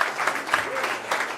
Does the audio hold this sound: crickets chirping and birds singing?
no